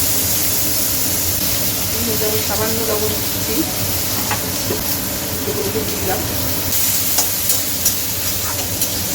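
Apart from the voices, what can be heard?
potatoes frying in oil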